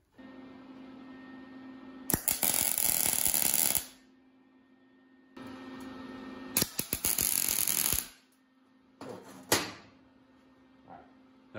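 A small, low-powered welder runs in bursts on pieces fixed to a bus roof during a roof raise, giving two long crackling passes and several short bursts against a steady hum, with quiet gaps between them.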